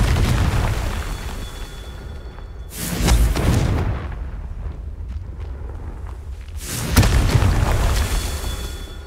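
Two booming blasts from the Confringo spell in Hogwarts Legacy, each a loud broadband burst fading into a rumbling tail, spaced several seconds apart over a continuous low game ambience.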